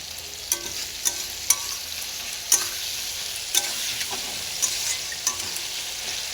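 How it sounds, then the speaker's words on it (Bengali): Onions sautéing in a frying pan with salt, a steady crackling sizzle under repeated sharp scrapes and clacks of a spoon stirring at irregular intervals, close and fairly loud, with no talking. "ভালো করে এটা কষে নিতে হবে।"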